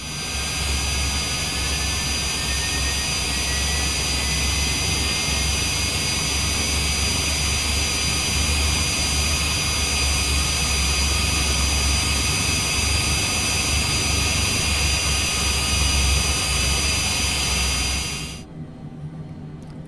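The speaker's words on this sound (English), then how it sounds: "Left engine starts, and once again we'll come up here and just monitor and be sure we got a good start." The left engine of a Cessna Citation Longitude in Microsoft Flight Simulator 2020 runs with a loud, steady jet roar and high whine that holds almost unchanged, then cuts off abruptly near the end.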